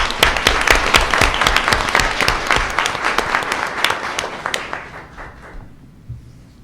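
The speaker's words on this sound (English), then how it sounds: "Please join me in giving them a round of applause." Applause from an audience at a county school board meeting, a dense burst of clapping that holds steady for several seconds, then thins and fades out.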